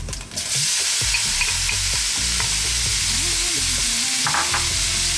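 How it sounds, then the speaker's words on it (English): Chopped onions go into hot infused oil in a pan for a king fish curry masala, sizzling and frying steadily, with a spoon stirring and scraping through them in close, continuous bursts. "Now we're going to go in with our onions."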